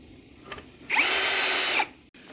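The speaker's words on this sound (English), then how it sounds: "I'll put a couple of screws in the bottom here." A power drill drives a screw into the frame of a Hampton Bay Woodford patio set, one close burst just under a second long that spins up and winds down, with quiet handling noises around it.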